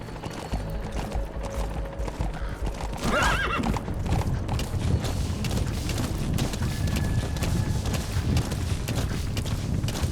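A horse gallops in the Metal Gear Solid V video game, with rapid, loud hoofbeats close by. A whinny breaks in early, and the pounding rhythm goes on throughout under a dense game soundscape.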